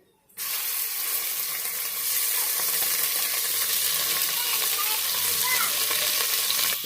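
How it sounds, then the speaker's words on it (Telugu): Tomato and onion paste frying in a pan, a steady, dense sizzle that starts abruptly and holds at an even, moderate level throughout with faint bubbling, no talk over it. "ఈ పేస్ట్ని పచ్చివాసం పోయే వరకు ఫ్రై చేయాలి"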